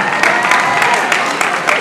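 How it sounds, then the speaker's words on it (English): A crowd at a rally at the Hawaii State Capitol applauds for Jamaica Osorio, a loud, dense wash of clapping with a few sharper claps standing out. "How about a big round of applause for Jamaica Osorio?"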